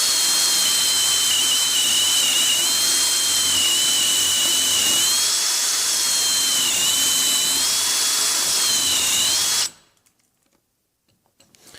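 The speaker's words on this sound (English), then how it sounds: "So we're going to drill that all the way out now." A power drill bores out holes for pocket door hardware, a loud, steady whine with a slightly wavering pitch that runs for several seconds before cutting off abruptly into silence.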